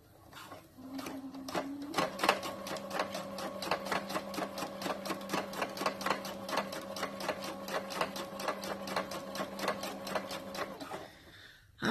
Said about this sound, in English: just sew it all the way around like that